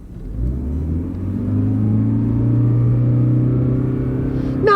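A car accelerates hard in power mode on a drag strip, its engine rumbling loud and close with a steadily rising drone, heard alone without talk.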